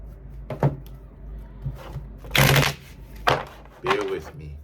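Tarot cards shuffled by hand, close by, in four or five short riffling bursts separated by pauses, with a person speaking in between.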